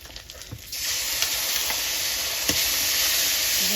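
A spice paste ground in a mixer drops into a hot pan of broccoli curry and breaks into a loud, steady sizzle that jumps up after a quiet start, with a few stirring scrapes along the way.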